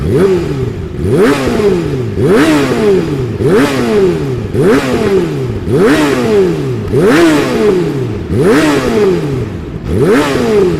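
A Yamaha R6 sport motorcycle engine revving in repeated rising sweeps, about eight loud blips of throttle in a steady rhythm, close and continuous with no talking.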